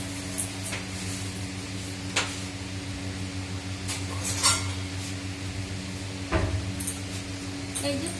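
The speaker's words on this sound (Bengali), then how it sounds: "এই যে পুছে নি, নিচেও বাসন রাখি।" Washed cooking pots are drained, wiped and set away in a kitchen, with scattered metallic clanks and knocks over a steady low appliance hum.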